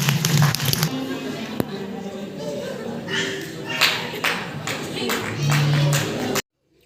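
An audience claps for a performing group at a community program. Scattered, uneven clapping rises and falls over several seconds beneath ongoing talk, then cuts off abruptly.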